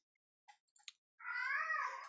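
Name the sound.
cat meowing, throwing a fit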